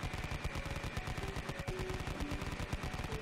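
An M134 rotary machine gun, a multi-barrel minigun spun by a high-speed 24-volt DC motor, fires a continuous rapid stream of shots, a steady dense rattling roar lasting the whole stretch with no voices.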